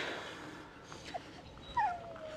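A dog gives a short, thin whimpering whine near the end, rising and then trailing off, with a faint yip just before it against quiet outdoor background noise.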